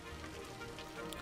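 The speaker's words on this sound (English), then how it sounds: "Holy cow, I've never seen it rain this hard." Heavy rain pours down in the city-building game Cities: Skylines, a dense, faint, even hiss with tiny patters scattered through it and no talk.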